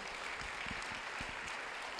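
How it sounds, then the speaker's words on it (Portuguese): A church congregation applauding during an evening service, a short, dense patter of many hands clapping at moderate volume without any voices. "Você pode aplaudir o Senhor Jesus?"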